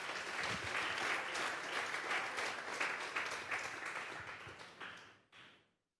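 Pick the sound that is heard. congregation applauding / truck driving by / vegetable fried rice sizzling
congregation applauding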